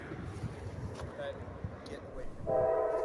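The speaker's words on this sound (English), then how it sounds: "we've never seen a Norfolk Southern train here, except for now" A Norfolk Southern train's horn sounds from a distance near Hanford Road south of Angola in Irving, New York. Low rumble sits under faint talk before the horn swells louder near the end.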